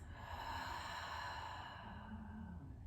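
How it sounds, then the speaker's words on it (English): A deep, slow breath in through the nose and a long audible exhale out the mouth during a yoga flow class, close and steady with no talk. "Take an inhale through your nose and an exhale out your mouth."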